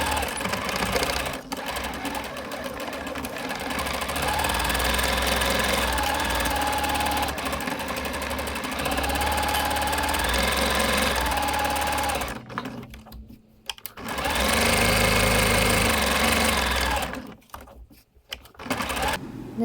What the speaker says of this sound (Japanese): 中表でぐるりと縫おう